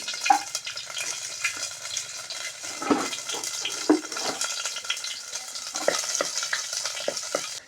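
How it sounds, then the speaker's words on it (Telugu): Tempering spices sizzle and crackle in hot oil in a home kitchen while mint chutney is made. A steady close frying hiss carries scattered pops and stirring clicks throughout, with no talking. "కొద్దిగా పోపులు వేసుకుందామండి"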